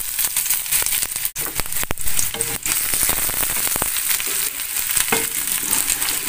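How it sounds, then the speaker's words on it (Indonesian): Garlic and shallots sautéing in smoking-hot oil give a loud, dense, continuous sizzle and crackle close up, with a few sharp scrapes and knocks of a spatula stirring the pan, no voices. "kita tumis sampai harum ya."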